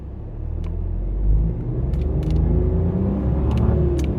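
A Nissan Magnite Turbo CVT accelerates hard up to 60 for a brake test, a steady loud engine drone and road rumble building without pause, with faint ticks above it.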